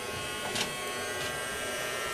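Casdon toy Dyson Ball vacuum cleaner switched on, giving a steady, close electric whirring buzz throughout with a couple of brief louder swells and no voices.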